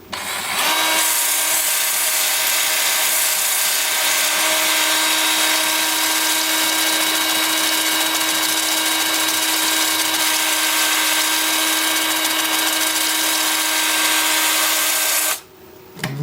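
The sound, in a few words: wood lathe turning a Russian olive bowl at 420 RPM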